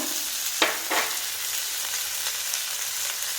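Onion and ash gourd sautéing in a pan, a steady close sizzle with a couple of brief scraping stirs near the start and no one talking.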